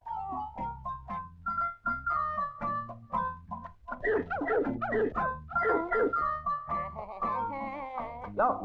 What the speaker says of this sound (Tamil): நாய் இங்க இருக்குதுயா